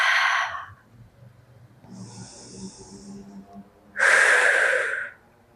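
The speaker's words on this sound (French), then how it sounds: "Expire par la bouche." A yoga participant exhales through the mouth during a guided breathing pause at a sunset vinyasa session: a breathy burst at the start, a softer airy stretch midway, then a loud, long rushing exhale, close and alone.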